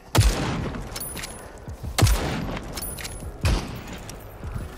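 Three loud, widely spaced gunshots from the battle royale game Super People, each a sharp bang with a short ringing tail, and faint smaller clicks in between.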